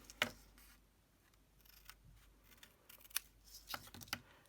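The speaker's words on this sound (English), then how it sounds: "take that one to the other side and cut it" Scissors cutting a paper tag, a few crisp close snips and blade clicks spread irregularly over a quiet background, soft and near.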